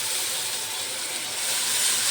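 Curry leaves sizzle in hot oil with a steady, bright, close hiss that holds evenly throughout without pauses or other sounds.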